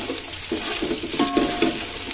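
Chopped onion frying in oil in a pot for khichuri on a cold day, a continuous soft sizzle broken by a few scraping stirs.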